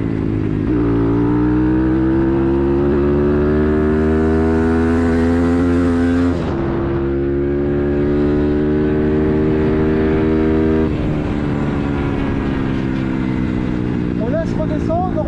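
A CRZ 140 or Bastos MXF 150 dirt bike engine revs up close, a loud buzzing drone that rises, drops and climbs again in distinct throttle surges.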